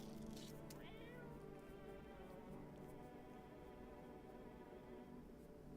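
Cat meowing in a video game while being fed canned food, a drawn-out meow followed by a wavering caterwaul-like cry over steady background music.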